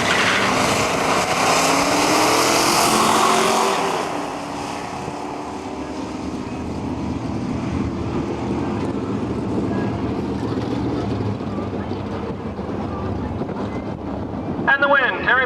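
Two cars launch in a nostalgia drag race, a Ford Mustang Mach 1 against a 1965 Dodge Polara, at Cayuga, Ontario; a loud, wind-buffeted engine roar opens strongly, then eases into a steady distant drone with a brief clatter near the end.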